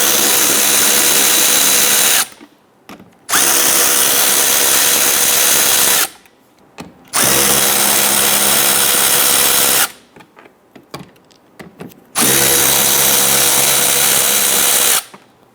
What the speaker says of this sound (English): Loosen these 4 7/32 screws.